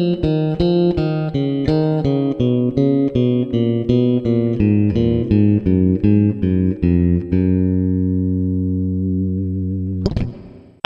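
Piccolo bass notes step down a scale one after another at an even pace, then a final low note rings out and fades before a short noise.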